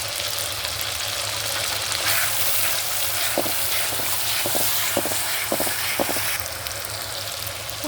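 Spices, including Kashmiri chili powder, sauté in hot oil for a chicken and potato curry: a loud, even frying hiss with a cluster of soft stirring taps near the middle.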